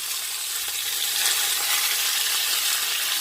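Pork steaks sizzling in a frying pan on a hob at full power: a close, steady hissing crackle with no talking, brief but continuous throughout.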